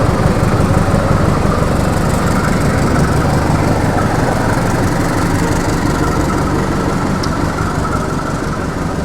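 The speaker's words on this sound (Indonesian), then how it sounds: "suara throttle-nya itu menggelegar sekali ya teman-teman" A Bader diesel locomotive's engine roars at full throttle, a loud, steady, close rumble that holds without a break for the whole stretch, with no voices.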